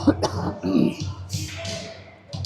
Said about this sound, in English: I'll try to stop coughing in the mic here.